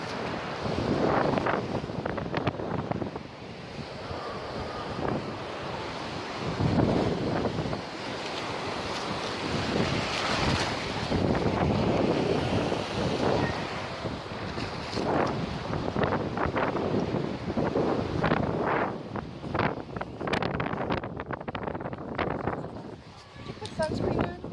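Wind and surf on the Atlantic Ocean shore form a steady, close broadband roar with repeated swells of crashing waves and gusty wind buffeting the microphone throughout.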